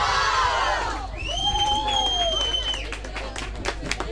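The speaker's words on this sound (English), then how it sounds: "depend on the cheering of their Spanish compatriots" Spanish supporters cheer from the sidelines at a mixed ultimate frisbee match, a moderate crowd roar with a few sustained shouted calls rising over it and some scattered claps toward the end.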